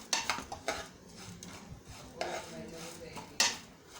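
A utensil stirs fried vermicelli (seviyan) in a metal pan, making quiet clinks and scrapes at an irregular rhythm against low background noise.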